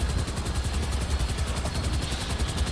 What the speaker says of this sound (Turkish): Dur bir dakika, helikopterler peşimde ama ben kaçıyorum